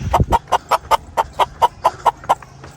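A chicken clucks outdoors along residential community roads in Indonesia, giving about a dozen short, evenly spaced clucks in a steady rhythm, close and clear with no talk.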